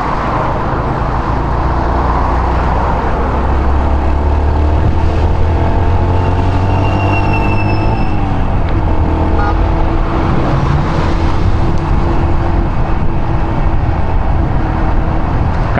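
Road traffic around a city bus, heard while riding a Yamaha YBR125 motorcycle in Vladivostok in the evening: constant loud engine drone and road rumble with a shifting tone, steady and close, no talk.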